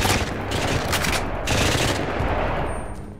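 Dense automatic gunfire from a Minecraft zombie apocalypse game, loud and nearly continuous with brief bursts standing out over about three seconds, no talking.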